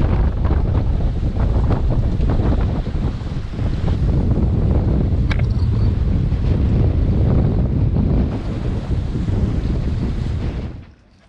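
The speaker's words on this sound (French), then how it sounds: "il y a des rafales, écoutons." Strong wind gusts roar and buffet the microphone continuously on a sailboat at sea, with water sloshing underneath, before dropping off abruptly at the end.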